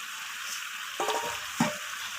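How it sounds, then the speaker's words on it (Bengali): Chicken curry with fried potatoes being stirred and sautéed in a pan, a low steady sizzle broken by two distinct scraping stirs near the end, close and moderately quiet with no talking. "তো সমস্ত কিছু এইভাবে নাড়াচাড়া করে একটু সময় নিয়ে কষিয়ে নিতে হবে"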